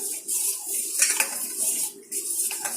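A spoon clinks and swirls in a cup, stirring honey into a hot detox drink, with quick repeated taps against the rim.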